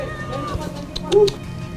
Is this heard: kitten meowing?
yes